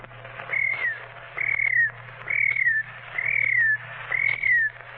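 A voice imitates a cricket with five short, rising-and-falling whistled chirps in a steady rhythm, close and clear over a faint hum, on an old-time radio broadcast.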